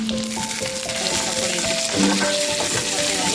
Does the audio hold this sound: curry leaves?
yes